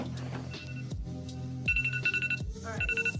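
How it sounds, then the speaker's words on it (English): A timer alarm goes off during an eyebrow and face makeup routine, ringing in a repeating electronic pattern of beeps and tones, loud and clear, with no talk over it. "so my timer is going off"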